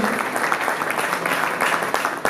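A crowd applauds and cheers to welcome a Swahili hip-hop performer onto the stage at an all-stars music show, with continuous dense clapping filling the room.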